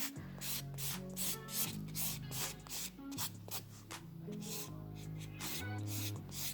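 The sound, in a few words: buffing a fingernail to remove surface shine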